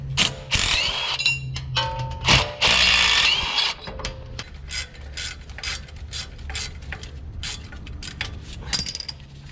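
A hand ratchet loosens tight bolts on the steering stabilizer bracket of a Jeep JL or JT, giving close, rapid clicking pawl bursts with some louder metallic clanks and scrapes, continuing in short runs.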